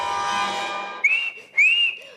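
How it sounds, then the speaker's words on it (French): After a sustained tonal hum fades, two bright, short whistled notes follow with a pause between them, each rising and falling slightly, clear and fairly close, as Pinocchio whistles to call for Jiminy. "Dès qu'il eut sifflé, Jiminy apparut."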